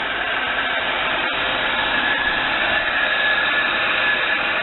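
A 1998 Buick Riviera 3.8L supercharged V6 idles smoothly on fast idle, a steady close hiss-like whirr with an even drone and no talking.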